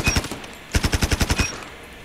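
PP Barton submachine gun firing in COD Mobile: a short burst of about four rounds, a brief pause, then a longer rapid burst of roughly eight crisp shots, loud and close.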